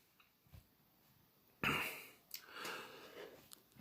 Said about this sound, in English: I'm sorry for coughing a lot.